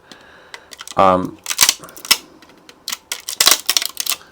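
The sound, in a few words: cutting support material off a 3D print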